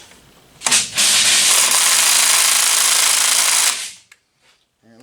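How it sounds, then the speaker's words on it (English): An impact wrench hammers at 14mm head bolts on a 2016 Polaris Ranger 900 XP engine, one loud sustained rattling burst of about three seconds close by, then quiet with faint handling noises. "it looks like this impact ain't strong enough"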